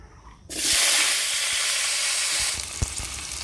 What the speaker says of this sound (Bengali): আলুটাকে ভেজে নিচ্ছি